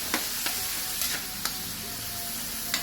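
Meat browning in a frying pan sizzles steadily while a utensil stirs it in a few sharp, scraping strokes spaced about half a second apart, up close.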